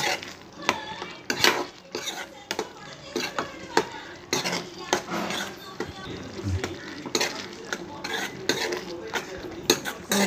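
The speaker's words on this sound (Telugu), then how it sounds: "ఉప్పు కారం కూర అంతా కలిసే విధంగా ఒకసారి కలుపుకొని" Curry with salt and chilli gets stirred in a pan, a steady scraping and clinking of a spoon against metal with a soft sizzle underneath, continuous and close, in repeated strokes.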